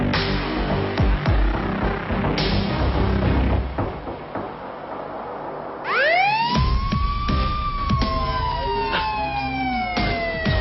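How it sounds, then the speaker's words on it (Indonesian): A police siren starts up about halfway through, rising and then wailing loudly in long sweeping tones over busy background noise. "Sirine polisi."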